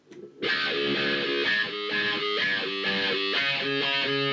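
An overdriven electric guitar plays a heavy, distorted doom riff, loud and sustained, with chords changing in a slow repeating rhythm and no voices over it.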